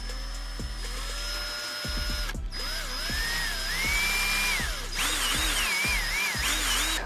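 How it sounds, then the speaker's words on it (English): A power drill backing screws out of a JVC HX-Z1/Z3 stereo CD player mechanism, with short rising whirs, a few spin-ups and stops, and a ratcheting clatter, close and loud with no talk. "So let me get these two screws out real fast."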